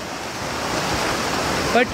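A forest waterfall in the jungle, a steady broadband rush of falling water heard close, with a brief voice at the end.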